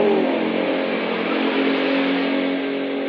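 A Vespa Matic scooter with a loud twin exhaust revs steadily, a continuous raspy engine drone held at high volume for several seconds with no break.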